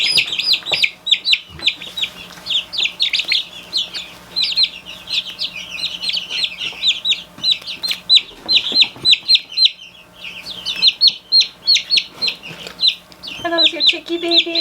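Young chickens hatched in early winter keep up a dense, continuous chorus of high chirps and peeps close by, with faint talk in the background.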